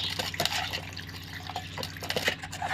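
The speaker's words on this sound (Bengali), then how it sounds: "এবারে অল্প অল্প জল দিয়ে একটা আমি থকথকে ব্যাটার বানিয়ে নেব।" Water trickles and drips into a bowl of carrot snack batter while it is mixed, with irregular splashes and soft liquid sounds over a low steady hum, close and fairly quiet.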